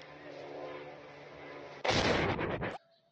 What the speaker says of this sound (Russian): Что-то взорвалось сильно